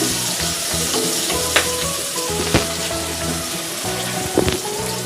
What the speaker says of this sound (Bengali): দুটো মিডিয়াম সাইজ পেঁয়াজ একদম ঝিরিঝিরি করে কুচিয়ে রেখেছিলাম, সেটাকে আমরা এই তেলে দিয়ে দিলাম।